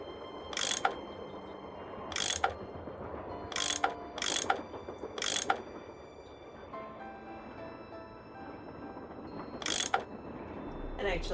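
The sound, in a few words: tool unscrewing bolts, from video game Last Train to Blue Moon Canyon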